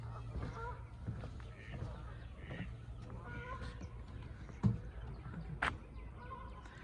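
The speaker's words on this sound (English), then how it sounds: "Hear the geese. Boy, they're loud." Geese honk repeatedly from a lake near a boardwalk over the water, the calls coming in scattered bursts against steady outdoor background noise.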